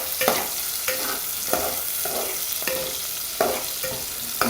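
Ingredients for a dried fish curry (karuvadu kuzhambu) are sautéed in a pan, making a constant sizzle broken by regular, rhythmic scrapes and knocks of a stirring spoon, close by.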